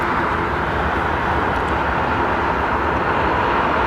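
A large aircraft departs London Heathrow Airport, and its engines give a steady, loud, broad roar throughout the short stretch.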